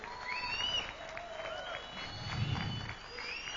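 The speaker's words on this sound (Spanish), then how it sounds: "Si va a aplaudir, aplauda con ganas" A church congregation applauds together in a steady wash of clapping, with raised voices and shouts rising over it and a swell near the end.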